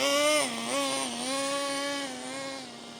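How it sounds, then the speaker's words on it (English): A nitro RC truck engine idles high and steady with a buzzing, nasal drone, pitch wavering slightly, close and fairly loud. "it's definitely idling a bit better. It's still idling quite high"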